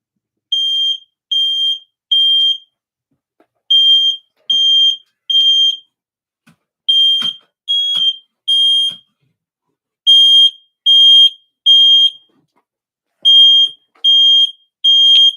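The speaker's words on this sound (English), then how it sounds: "That's my fire smoke detector." A smoke detector alarm sounds loud and close in repeated groups of three sharp, high beeps separated by short pauses, with a few faint knocks and movement noises between the bursts.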